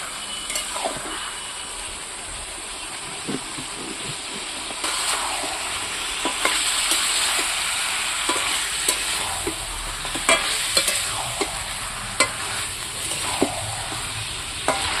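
Mutton pieces mixed with ginger paste are stirred in a hot pot, giving a steady close sizzle broken by repeated scraping and clinking strokes of the spoon against the metal, with no talking.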